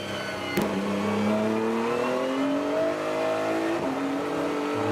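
A GT race car at Barber Motorsports Park stays hard on the throttle, its engine note climbing steadily in a loud, sustained howl with a brief sharp transient early on and a gear change near the end.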